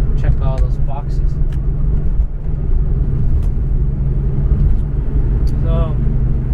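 A Porsche 964 C2 Targa with a manual gearbox drones steadily from inside the cabin while driving, a constant low engine rumble running the whole time under occasional talk.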